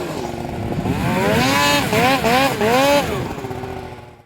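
Dirt bike engine revving through a hopover on a practice hill, the pitch rising and falling in several surging waves as the throttle works, loud and close before easing off.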